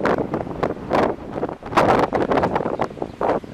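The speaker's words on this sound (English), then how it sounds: "It's windy here." Gusty wind buffets the microphone at an outdoor astronomical observatory site in Europe, coming in repeated surging bursts with short lulls, close and loud.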